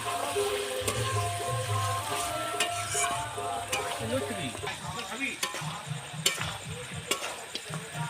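Mutton pieces being sautéed in a pan for a Bengali-style curry, with stirring scrapes and frying noise under a busy kitchen background that carries tonal hum and faint voice-like sounds.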